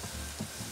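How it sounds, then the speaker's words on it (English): Garlic frying in butter in a pan, a soft, steady sizzle with faint crackle, close and quiet, with no voices over it. "the smell of the garlic frying in the butter is just so intoxicating"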